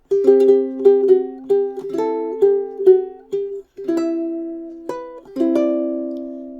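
A ukulele plays a short bright melodic phrase from a fingerstyle arrangement, notes picked one by one with clear, ringing tones and brief pauses.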